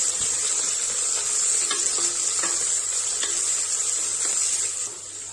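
Long-sliced onions sauté in a hot pan for kuska, a bright continuous sizzle with intermittent stirring scrapes and a low hum beneath, fading slightly at the end.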